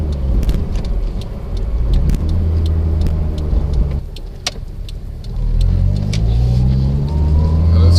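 A Toyota MR2 SW20 accelerates hard on the freeway, its engine rumbling loudly up through the revs from inside the cabin, with a brief lull around a gear change before the pull resumes; occasional clicks mark the cabin.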